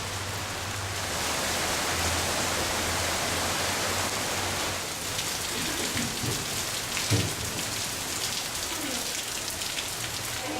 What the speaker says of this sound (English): it's actually raining inside at the moment